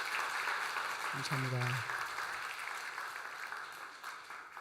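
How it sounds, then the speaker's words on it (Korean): A church congregation at a Sunday worship service applauds to welcome new members, a broad, steady wash of clapping from a large room that runs throughout while someone briefly speaks over it. "우리 박수로 환영하도록 하겠습니다"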